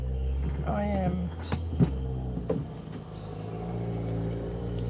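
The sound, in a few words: road traffic passing by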